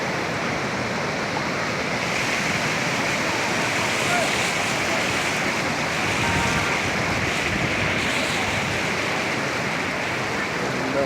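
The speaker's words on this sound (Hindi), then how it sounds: "ये देखेंगे सामने से आप झरना आ रहा है" A waterfall on the road back from Babusar Top rushes in a dense, continuous roar of falling water, loud and steady with some wind buffeting the microphone and no clear talk.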